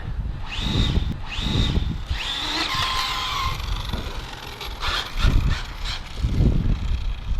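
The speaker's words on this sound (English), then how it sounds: "Wow, that motor is a monster." An Arrma Limitless or Mojave RC car's electric motor spins up in sharp rising whines, several short bursts with mechanical rattling and tire noise in between.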